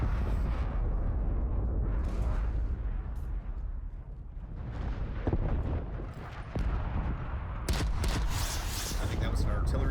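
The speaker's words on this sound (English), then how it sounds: "I think that was an artillery strike or something" An artillery strike pounds a Call of Duty battlefield, with heavy booming explosions and rolling, crackling bursts that continue for about ten seconds amid dense gunfire-like noise.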